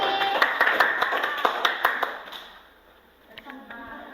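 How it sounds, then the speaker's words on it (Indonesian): A classroom audience gives a short burst of clapping for a student presenter at a coaching session; the sharp claps fade after about two seconds, followed by a few scattered taps and faint background sounds. "Berikan tepuk tangan untuk Chelsea."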